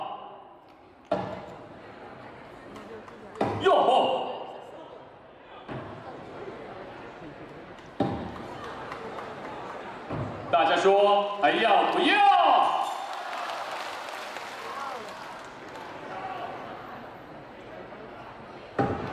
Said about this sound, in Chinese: 现在一起见识一下飞斧头，同样需要百分百的精准度